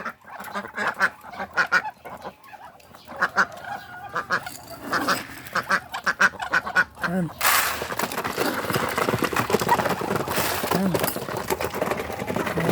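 Hungry Muscovy ducks call repeatedly at feeding time in a backyard farm, their honking calls close and frequent, while a person talks over them.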